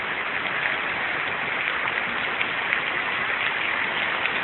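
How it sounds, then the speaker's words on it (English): Steady rain pours down outdoors at the first rain of the season, a dense, even hiss of drops striking surfaces that fills the whole stretch without a break, close and fairly loud. "I just want to show you guys that. That is raining out here."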